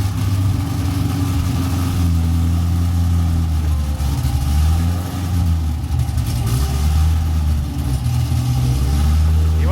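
A Camaro ZL1 fires up for the first time on a custom Valvetronic muffler exhaust with the valve closed, settling into a loud, steady, deep-throated idle with a slight lope, heard close up throughout.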